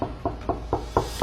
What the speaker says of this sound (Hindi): जोर से दरवाजे पर खटखट हुई